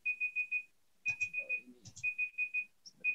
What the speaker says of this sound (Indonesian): alarm saya